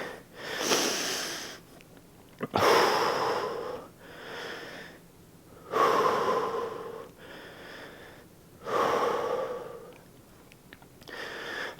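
Heavy breathing after a set of squats, with deep gasping breaths in and out in slow repeated cycles. The breaths are close, with short pauses between them.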